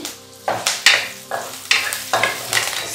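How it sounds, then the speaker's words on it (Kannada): Mustard seeds and urad dal fry in hot oil with chilli and curry leaves, heard as a series of sharp scraping stir strokes over a soft sizzle, each burst fading before the next, with no voices. "ಸಾಸಿವೆ ಸಿಡಿದು ಉದ್ದಿನಬೇಳೆ ಸ್ವಲ್ಪ ಕೆಂಪಗಾಗೋಷ್ಟೊತ್ತು ಫ್ರೈ ಮಾಡಬೇಕು"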